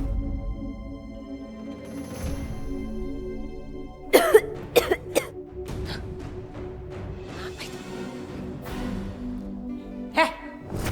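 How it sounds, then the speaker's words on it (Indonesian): Several sharp, close coughs come in a short cluster, then a later cough, over a quiet tonal music bed indoors in a dramatic scene. "kamu kenapa batuk-batuk, ha?"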